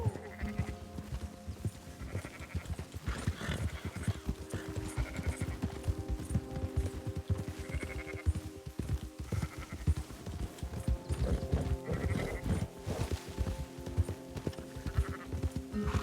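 Sheep in Red Dead Redemption 2 bleat repeatedly from close by, their calls recurring every second or two over a busy patter of hooves and clip-clopping.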